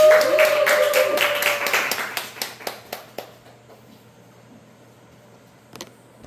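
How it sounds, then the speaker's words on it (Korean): A short burst of scattered handclaps from a seminar audience follows a raised voice at the start, the claps thinning into a few isolated slaps before fading into near silence. "큰 박수 부탁드립니다"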